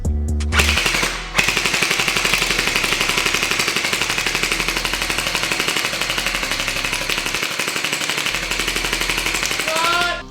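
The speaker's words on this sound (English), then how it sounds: "I'm about to unload on this apple in 3, 2," A Gel-Zone Hydrostrike gel blaster fires rapidly at an apple, a fast continuous stream of sharp clacking shots lasting several seconds, loud and close, that cuts off suddenly at the end.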